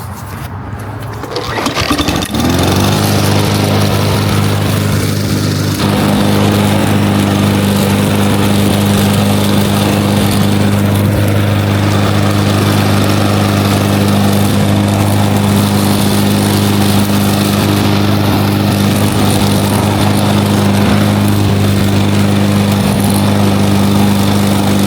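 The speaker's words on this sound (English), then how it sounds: "fill up the lawnmower and get cutting" A lawn mower engine sputters to life after a pull, then settles into a loud, steady drone while cutting grass, running on without a break, close by.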